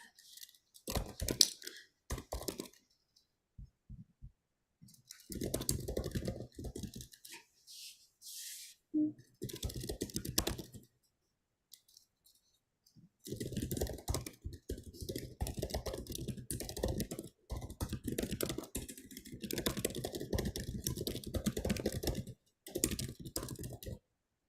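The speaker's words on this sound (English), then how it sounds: "Or some really good typing sound." Rapid bursts of keyboard typing clatter up close, stopping and starting in uneven stretches with short pauses and a few louder key clicks.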